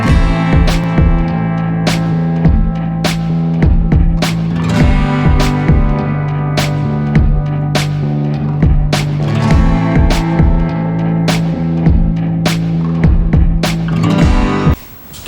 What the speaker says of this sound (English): I would say that starter sounds a hell of a lot better